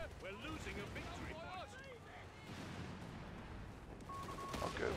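Anti-tank guns firing on a vehicle in Company of Heroes 3 produce scattered booming shots and crackling impacts amid a busy battlefield din, with whistling projectiles and other combat noise layered throughout.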